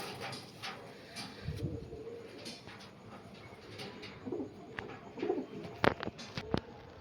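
Miravwala Nasal pigeons, light birds of about 100 grams, coo softly now and then against a quiet room hum, with a few short sharper calls and rustles near the end.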